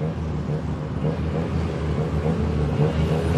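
A tuk-tuk engine drones and revs hard during a fast ride through Bangkok traffic toward China Town, a loud continuous motor roar with wind and road rumble, close up.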